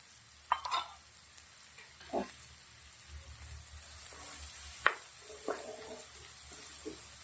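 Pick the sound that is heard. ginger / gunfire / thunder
ginger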